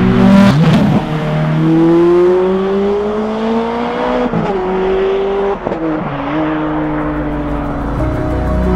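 Ferrari 430 Scuderia with a modified exhaust, loud and close, revving hard through rising gear pulls with sharp shifts and a brief tyre squeal, no talk.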